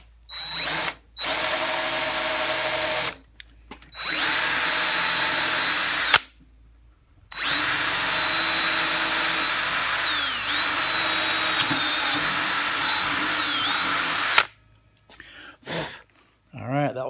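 A power drill bores a hole through a wooden walking staff in long steady whirring runs separated by short pauses, loud and close.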